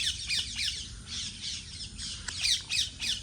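Parrots in a guava tree give a string of harsh, piercing squawks, repeated rapidly and fairly close, with no talk over them.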